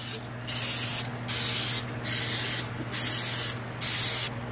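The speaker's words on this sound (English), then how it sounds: "I give a little bit of a spray just for insurance" Five short bursts of cooking oil spray hiss onto a non-stick donut pan in a steady rhythm, each lasting about half a second, over a low constant hum.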